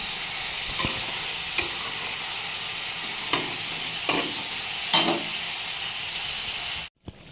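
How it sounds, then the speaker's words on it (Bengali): Pointed gourd curry with prawns being stirred in a pan, a steady sizzle under a few scraping strokes of the spoon, close and fairly loud, cut off abruptly near the end. "চিংড়ি মাছ দিয়ে খুব ভালো করে নাড়াচাড়া করে নেব"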